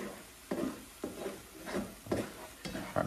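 Scrambled eggs are folded and stirred in a frying pan in Grandma's style, producing a faint, soft sizzle broken by regular spatula scrapes about every half second.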